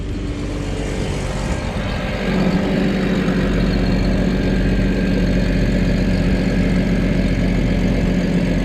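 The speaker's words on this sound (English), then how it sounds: "You got that exhaust leak still I never fixed." Car engine idling with an unrepaired exhaust leak, a steady low rumble that grows slightly louder and rougher after the first couple of seconds and holds at close range with no talk.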